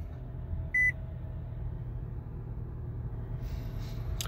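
A 2019 Nissan Pathfinder S gives a single short electronic chime as it is switched on, a clear bright tone over a low, quiet cabin rumble.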